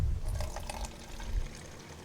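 Water pours into a container while homemade insecticidal soap is being mixed, a soft gurgling trickle with a few brief low thumps, faint and close, with no talking.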